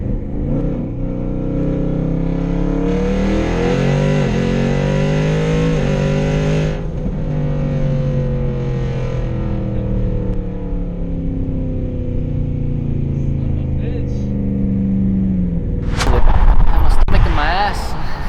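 A 1000+ hp turbocharged Ford F150 pickup in a roll race, its engine note climbing and droning loudly for several seconds, then a sharp burst of turbo and exhaust noise near the end, with people talking over it.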